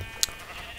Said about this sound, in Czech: Ty skákající barevné ovečky, to je síla